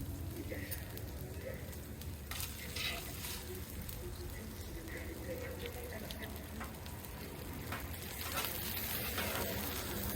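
Grilled onions and bacon sizzle on a 36-inch Vevor propane griddle outdoors, producing a steady crackling hiss with scattered pops and a few scraping stirs, moderately loud and continuous throughout.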